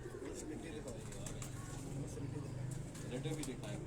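Tausi pigeons cooing at a Lahore pigeon keeper's house, soft low repeated coos under continuous talk and background noise.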